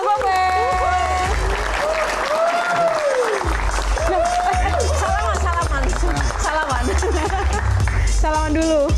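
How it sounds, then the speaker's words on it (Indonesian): Audience applause and cheering as a comedian is welcomed on stage at an Indonesian comedy Q&A show, loud and sustained throughout with crowd noise and voices speaking over it. "Kita akan langsung saja beri tepuk tangan yang paling meriah untuk Bapak Alfian Syah alias Komeng."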